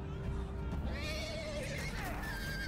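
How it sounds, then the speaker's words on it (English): A horse whinnies in the Game of Thrones video game, Iron from Ice: a wavering, high neigh rising and falling over a steady low background din. "Horses."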